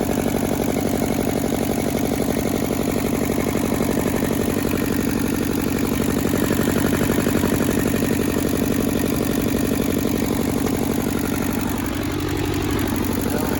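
A Hinomoto tractor's diesel engine with a failing injector runs at a steady, rhythmic idle nearby, loud and continuous with no talking.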